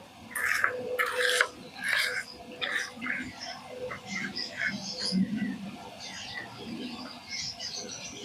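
Roasted, cooled curry leaves crushed by hand for a kakrol (spiny gourd) dish give soft dry rasping and crackling rubs in bursts, close and fairly quiet.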